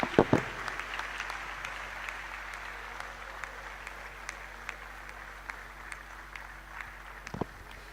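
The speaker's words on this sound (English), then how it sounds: "let's give her again one more round of applause" University lecture audience at a career services event applauds, a soft, distant wash of clapping with faint scattered claps and some low room noise throughout.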